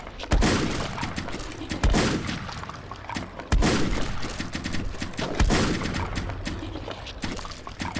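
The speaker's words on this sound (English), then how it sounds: "I'm gonna shift to my cannon now and shoot them." Repeated heavy cannon blasts from the video game Project: Dwarka boom every couple of seconds, each followed by a crackling, rumbling decay.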